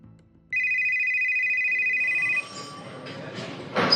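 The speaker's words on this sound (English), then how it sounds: "The phone at the Pathum Thani police station rang sharply." A telephone rings at the Pathum Thani police station, one long, sharp electronic ring that ends abruptly. Low noise and a rising rustle follow it.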